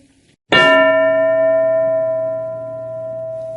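A single metallic bell struck once in a classroom game rings out loud and clear, its bright tone sustaining and slowly fading over several seconds.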